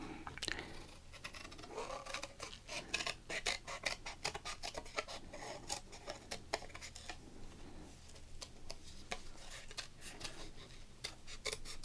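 Scissors snip and slice through plastic wrappers on football card packs, a quiet close-up ASMR series of crisp, rapid cuts and rustles with no talking.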